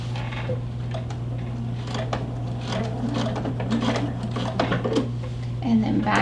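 A sewing machine stitches straight across a lapped zipper, up to a seam, in a steady mechanical whir with a constant hum and a rapid ticking needle rhythm, running close and continuous throughout.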